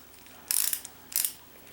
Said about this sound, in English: If you got it to the left, it's a ratchet.